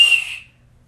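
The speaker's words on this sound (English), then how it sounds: "I think he got the hang of the whistle." A three-year-old child blows a toy whistle: one short, shrill, piercing toot that fades out within half a second, close by and alone.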